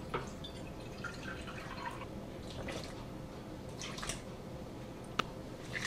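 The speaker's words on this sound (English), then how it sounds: "So I'm gonna use my filtered water here." Filtered water is poured into a bowl for sourdough bread dough, giving a quiet trickle with soft drips and splashes and one sharp tap near the end.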